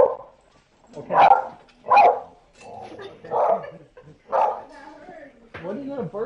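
A dog barks repeatedly indoors, about six sharp close barks and yips in an irregular rhythm, with a short whine between them and a person speaking nearby.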